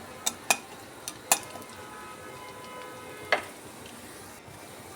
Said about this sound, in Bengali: তো ফোড়নটাকে আমি একটু হালকা করে ভেজে নেব।